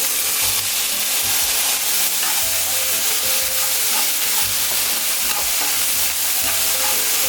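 Chicken, ginger and spring onion are stir-fried in a wok, a loud continuous sizzle close up with repeated scraping strokes of the spatula keeping an uneven rhythm.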